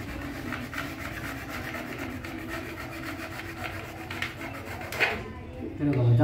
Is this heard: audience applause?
no